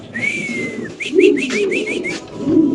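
Fancy pigeons coo close by in a steady series of soft, rolling calls with brief gaps between them, loud and clear with no talking over them.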